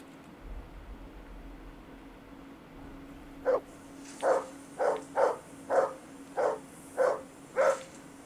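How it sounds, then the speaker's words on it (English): A dog in a video game barks eight times in a steady series, loud and fairly close, over a low constant hum, after a few quiet seconds. "call that dog to heel"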